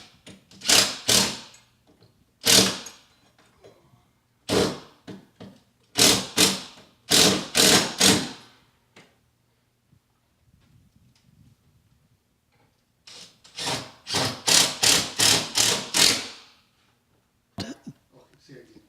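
Metal L bracket being mounted to a wall for a drapery rod: bursts of sharp, rapid mechanical buzzing, likely a power drill or driver, come in short spaced runs with quiet gaps between them.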